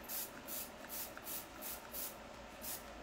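A rose setting spray made from roses grown in the south of France is pumped in about eight quick, evenly spaced hissing bursts. Each bursting hiss is close and fairly soft, and nothing else is heard.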